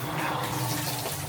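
Strong water gushes from a tap at high pressure, a steady, loud, broadband rush that continues unbroken throughout, with no voices over it.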